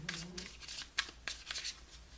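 Tarot cards shuffled and pulled from the deck, a run of soft, quick papery riffles and flicks, close and fairly quiet, with no voice over them.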